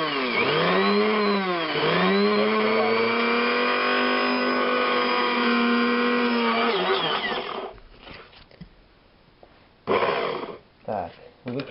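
Kitchen blender grinding sugar into powdered sugar for bee candy, a loud, steady whine with pitch dips that runs for about seven seconds, then cuts off, leaving a few handling clatters and knocks.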